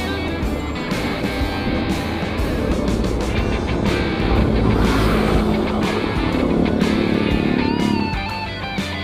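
Traffic on the Nagtahan flyover in Manila streams past in a loud, continuous roar of engines and tyres, with individual cars swelling and fading close by.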